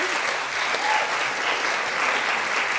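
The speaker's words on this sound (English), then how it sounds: "one last big round of applause, please, for Morgana." A live comedy show audience in Wellington gives a sustained, full round of applause, dense and even, with almost no voices over it.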